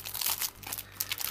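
Thin plastic packet crinkled and rustled open while unpacking AliExpress purchases, a close, continuous crackly rustle with no talk.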